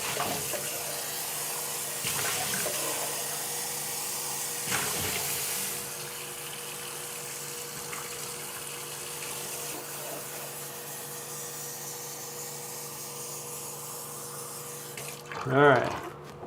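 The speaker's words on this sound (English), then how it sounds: "I'm going to go get a fresh bucket of water." Tap water runs steadily into a bucket in a workshop, a constant hissing splash close by with a few faint knocks, ending in a brief squeaky sound.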